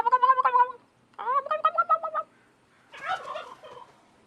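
A turkey gobbles in a film scene, three loud bursts of rapid warbling gobbles separated by short silences.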